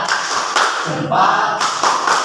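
Primary school class doing the rhythmic 'tepuk salut' clap routine: a few short, sharp bursts of group clapping in a patterned rhythm, close and fairly loud, with a brief pause between bursts.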